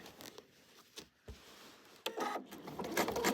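A sewing machine stitches a quilted bunny tail for an Easter bunny wall hanging, with a short burst of stitching at first, a pause, then a louder, steadier run of whirring stitches close by.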